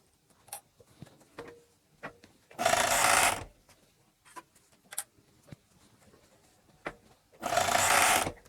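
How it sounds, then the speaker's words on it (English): A sewing machine stitches the short edge of ribbing in two loud, dense bursts of about a second each, separated by quieter handling taps and fabric rustles. "I'm going to sew along the short edge to make a loop."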